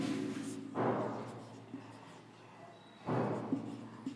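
Pen strokes writing capital city names such as Yerevan and Baku onto a world map, two distinct bursts of scratchy writing separated by quieter pauses, close and fairly soft with no talk.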